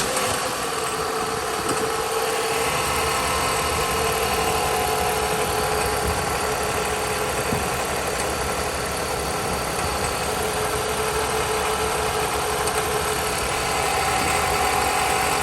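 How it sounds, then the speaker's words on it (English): A small Jeep's engine runs steadily in a shop with a driveline-type noise suspected from the alternator's decoupler clutch: a close, continuous idling drone with a rough mechanical whine and vibration, no talk. "Customer complaint on this one is some kind of driveline noise."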